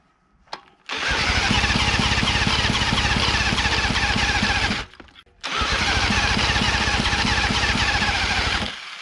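A 1940s Johnson Seahorse KD15 outboard boat motor sputters into a loud, rough, rapid running clatter for about four seconds, cuts out briefly, then catches again and keeps running unevenly to the end.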